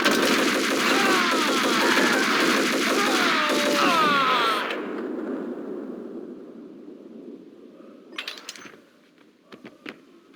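Rapid automatic gunfire from the Max Payne video game rattles loud and dense for about five seconds, then drops to a quieter backdrop with a few sharp isolated shots and short bursts near the end.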